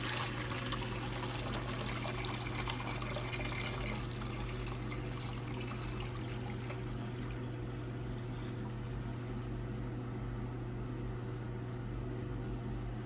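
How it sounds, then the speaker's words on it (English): Electrolyte for silver refining pours steadily into a clean bowl, a continuous close liquid trickle and splash lasting the whole stretch with no talking. "So now we're going to pour the electrolyte into this clean bowl."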